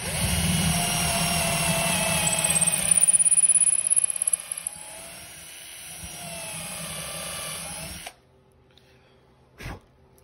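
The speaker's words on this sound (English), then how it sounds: "and I'm going to drill it." A power drill whines steadily as it bores a hole for a cabinet door knob, loud and close for about eight seconds, its pitch shifting under load, then it cuts off into quiet with one short burst afterward.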